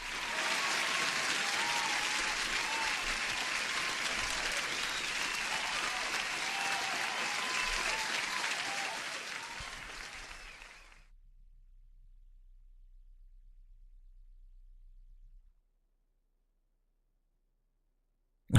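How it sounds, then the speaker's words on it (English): Loud, dense applause from a large crowd rolls steadily, then fades down and cuts off into silence. "Let me give an applause to anyone who just subscribed."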